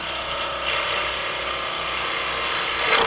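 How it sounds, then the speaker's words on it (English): A roughing gouge cuts hard maple spindle stock spinning on a wood lathe, a loud continuous close rasping whir with a steady rattly texture that holds evenly throughout. "you can pretty much do this whole thing with a roughing gouge"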